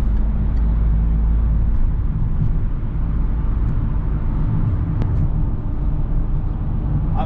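Citroën C4 Picasso HDi 110 diesel running, a steady low engine drone with road rumble heard from inside the car, constant and fairly loud throughout.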